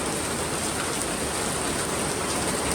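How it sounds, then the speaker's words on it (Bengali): Heavy monsoon rain pours steadily in Savar, Bangladesh, a dense, unbroken hiss of drops hitting surfaces, loud and close, with no voices. "সকাল থেকে বৃষ্টি, আমাদের সাভারে প্রচুর বৃষ্টি হইতেছে"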